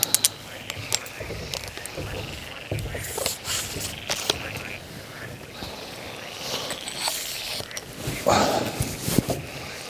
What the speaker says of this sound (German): ist echt die übelste Froschparty